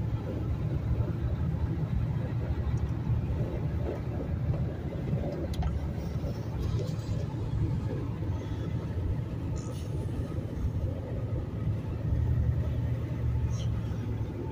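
A 1994 Chevy C1500 pickup cruising on the interstate: a steady, loud low engine and road rumble with continuous tire and wind noise throughout, no clear breaks.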